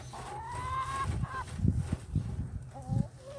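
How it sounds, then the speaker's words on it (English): Chickens cluck and call near a garden area being amended with manure and plant debris, with several overlapping squawks and short bursts repeating over a few seconds. "You nosy chickens."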